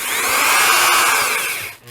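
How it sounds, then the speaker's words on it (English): A power drill drives a screw into drywall hung vertically in a basement, its motor whining steadily and loudly up close for about two seconds before winding down. "and then of course you can pull the drill away just as it pulls in like it needs to"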